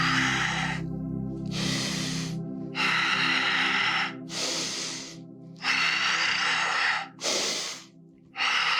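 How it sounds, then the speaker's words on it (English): Deep, loud breaths during a yoga exercise, with about six long exhales and inhales alternating in a steady rhythm over a soft music bed. "Exhale as you go, inhale as you come back."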